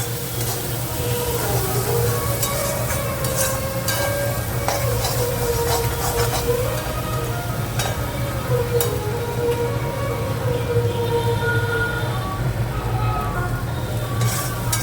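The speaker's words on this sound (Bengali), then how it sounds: "চলো মশলাটাকে এবার ভালো করে কষিয়ে নিই" Ground spice masala with cumin powder being sautéed and stirred in a pan, making a low, steady sizzle with occasional scrapes and clinks of the utensil over a constant background hum.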